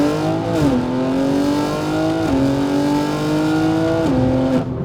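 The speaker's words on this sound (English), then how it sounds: "that is a very good accelerating car." A Stage 2 tuned black BMW M3 G80 pulls hard from 100 to 200 km/h, its engine note rising loud and steady through three quick upshifts that each drop the pitch before it climbs again, with no voices.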